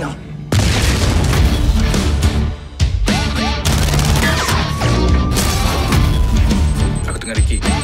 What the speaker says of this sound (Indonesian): Bom itu besar, Bom.